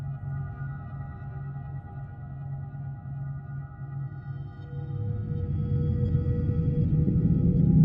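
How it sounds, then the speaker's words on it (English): A deep ambient soundscape from a Combinator 2 synthesizer patch, with sustained low drones and layered tones drenched in reverb, slowly swelling louder over several seconds with no talking. "to get this sort of deep moving soundscape, we need some more reverb"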